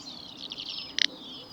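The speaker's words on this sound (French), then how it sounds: "c'est le chant de l'outarde canepetière" A little bustard gives one short, dry rasping burst outdoors, loud and close, after a few faint high chirps.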